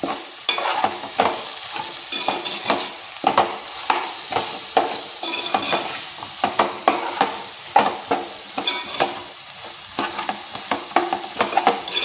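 A spoon scrapes and stirs coriander and cumin powder into a drumstick curry sizzling in a pan. The strokes repeat in a steady rhythm close by, with no talk.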